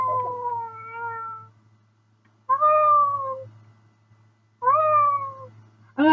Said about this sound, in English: Come check out the baby cat.